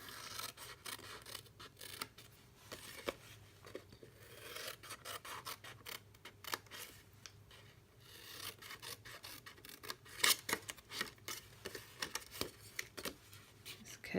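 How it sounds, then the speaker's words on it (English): Scissors snipping a small wedge from a sheet of 6x6 craft paper, heard as a quick run of close, crisp cuts and rustling paper handling, fairly quiet, with no talking. "And I did do a miter cut. Just cut a little wedge out."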